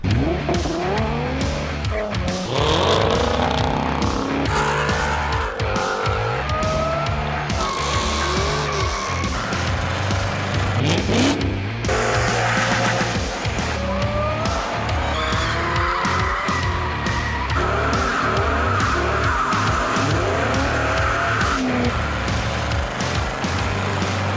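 A 2018 Dodge Durango R/T drives on the road, heard as a loud continuous engine and road roar with shifting tire noise throughout.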